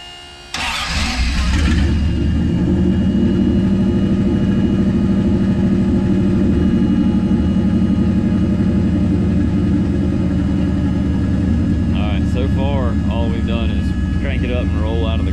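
A car nicknamed Mr. Jones starts with a brief whirring crank and then settles into a loud, steady, close idle rumble that runs throughout as it prepares to roll out of a garage, with a voice speaking briefly near the end.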